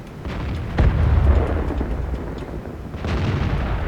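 A T-44 tank gun fires at a KV-4 in the World of Tanks video game: one heavy, close boom rises out of a constant low battle rumble, with a lighter thud near the end.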